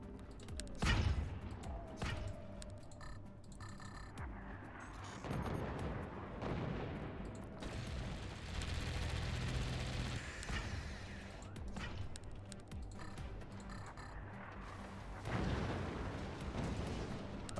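Artillery fires in Forts. Heavy booms and impacts arrive in scattered bursts with a long rumbling stretch in the middle, at a moderate level with some distance.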